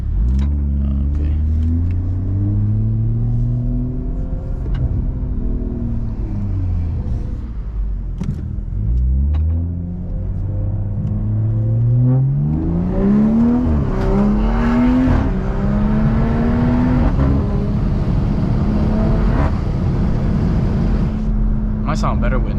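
Exhaust of a BMW B58 engine heard from inside the car while driving, a steady droning rumble with rising and falling revs as the car accelerates and shifts, loud and continuous with some wind noise.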